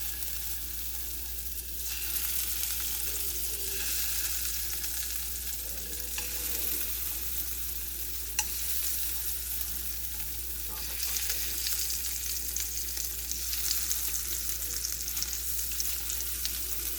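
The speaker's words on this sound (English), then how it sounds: "now I'm just going to take my paneer and bring it inside of my pan piece by piece here." Paneer pieces frying in hot oil in a pan, a steady broadband sizzle that holds throughout and swells slightly as more pieces go in, with no talking.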